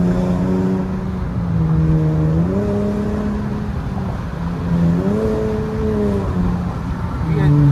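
A Dodge Challenger's engine drones and rises in pitch as it revs and accelerates inside a highway tunnel, loud and continuous from within the car, the note climbing in steps.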